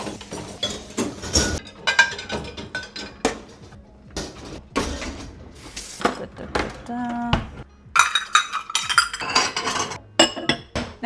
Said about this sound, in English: Dishwasher is empty, and now to fill her up.